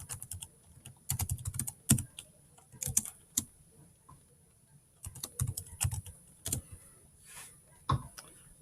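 A city name is typed on a computer keyboard in quick close bursts of key clicks, pausing between words, with no voices.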